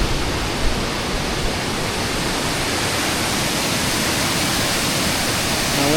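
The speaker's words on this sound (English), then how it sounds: "This is the top part of the falls." Top part of a waterfall on the Big Burn Walk in Scotland, a dense, steady roar of rushing water, loud and close, unchanging throughout with no voices.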